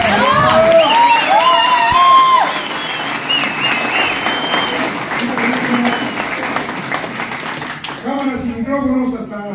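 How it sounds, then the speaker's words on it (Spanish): Loud audience applause and cheering fill a Detox clinic gathering, with dense clapping and whoops at the start, a voice calling out over it, and crowd noise continuing throughout before speech resumes near the end. "Un aplauso muy fuerte. Para él."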